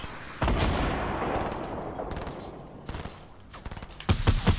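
Rapid bursts of gunfire from the video game Fortnite, loud and dense, with a sustained volley followed by scattered sharper shots near the end.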